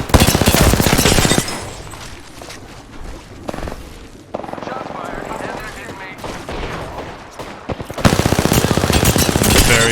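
Loud, rapid automatic bursts from the CAR SMG in Apex Legends, a dense fusillade at the start and again near the end with quieter game noise and scattered shots between.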